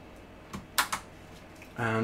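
A RAM stick is pressed into its slot in a Shuttle SZ87R6 XPC barebones computer, giving a few sharp, close plastic clicks in quick succession before a steady low hum starts up.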